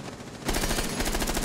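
Rapid gunfire in a Rainbow Six esports match, a quiet stretch giving way to dense, loud, evenly spaced shots that run to the end.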